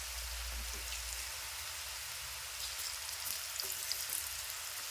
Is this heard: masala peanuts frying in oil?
yes